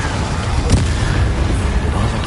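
Fiery spell bursts from the Incendio charm in the video game Hogwarts Legacy, a dense rumbling roar with a sharp burst near the start, loud and continuous throughout with no pauses.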